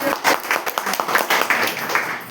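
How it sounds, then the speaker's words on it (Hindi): Applause from a gathered audience: a brief, uneven round of many hands clapping, with loud and soft patches, heard alone without talk. "तो चलिए जोरदार ताली आपके लिए"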